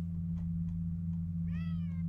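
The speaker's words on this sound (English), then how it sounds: "That explains the cat. The cat wants out." A cat meows once in the Thief fan mission The Seven Sisters, a clear rising-falling call near the end over a loud low steady hum, with a few faint ticks before it.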